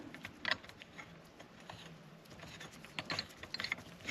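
A hand ratchet clicks while tightening a left-hand-threaded part on a Jeep JL Rubicon, a quiet close series of rapid pawl clicks in short irregular bursts.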